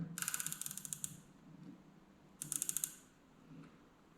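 Elevation turret on a CVLife Fox Spook 1x22x33 red dot sight cranked through many detents in two quick bursts of crisp, evenly spaced clicks, close and quiet with pauses between, no voices.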